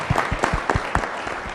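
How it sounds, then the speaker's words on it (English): A community dialogue audience gives elected officials another round of applause, a short burst of distinct, fairly close hand claps in an uneven rhythm, several individual claps standing out within the group. "just give your elected officials another round of applause"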